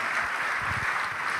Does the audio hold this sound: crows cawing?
no